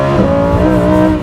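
A Lamborghini Huracan EVO engine revving hard during a launch, a loud, close, sustained roar with a rising pitch, heard alone for about a second.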